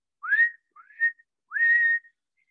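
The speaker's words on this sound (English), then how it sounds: "My brother taught me to whistle." Three clear rising whistled notes, the last one held longer, with brief pauses between them in a quiet space.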